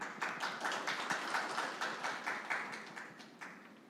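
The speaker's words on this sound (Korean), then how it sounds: "큰 박수로 환영해 주세요" A small audience claps to welcome a student speaker onto the stage at a youth policy debate forum. The hand claps are close and distinct, forming steady overlapping bursts that taper off over a few seconds with no talk.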